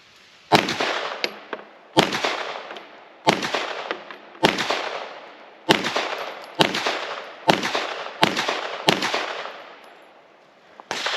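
Nine sharp, loud shots from a TISAS 1911 9mm pistol ring out at an outdoor range in an uneven rhythm, each crack followed by a brief echo, with faint metallic clinks between shots.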